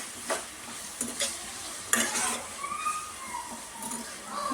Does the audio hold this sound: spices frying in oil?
yes